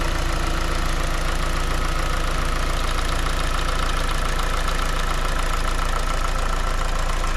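A 2020 Hyundai Veloster 2.0 engine idles steadily and fairly loud throughout, a continuous low rumble with a faint rhythmic knocking texture and no voices.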